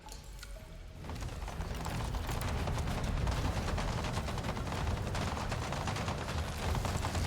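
Gunfire in the Avatar: Frontiers of Pandora video game as a shotgun is fired, dense and sustained loud crackling bursts with mechanical clatter that continue without pause.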